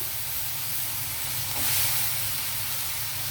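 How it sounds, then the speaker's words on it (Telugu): Eggplant pieces go into a hot pan with a pea curry, giving a steady, fairly loud hiss of steam and sizzle that swells briefly midway, with no talk. "వంకాయలు వేస్తున్నాను"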